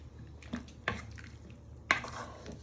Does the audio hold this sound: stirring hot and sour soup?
yes